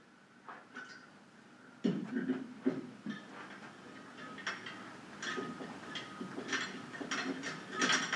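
A light fixture is screwed onto a threaded pipe socket and locked in place, giving a string of close, irregular clicks, ratcheting taps and scraping knocks.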